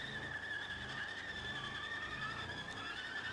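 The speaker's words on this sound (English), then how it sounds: "Any bit of momentum just shoots the back end up and then it skips the tires along the ground" Car tires in the BeamNG driving game skip and squeal along the ground under low gravity, a continuous, fairly loud, whining screech over a rumbling engine.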